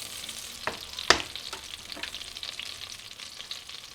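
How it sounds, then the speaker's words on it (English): Butter melts in a pan with a soft, quiet sizzle and crackle, and a few sharper clicks and stirring knocks stand out over the fizz. No voices are heard. "We're just gonna melt our butter."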